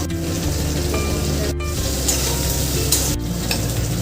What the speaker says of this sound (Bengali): বেগুনগুলো দিয়ে দেবো,